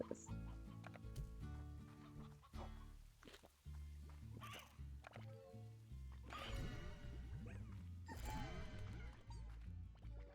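Hens clucking in the Slime Rancher video game, a run of short, busy clucks and squawks over steady game music and ambience, mostly alone with little talk.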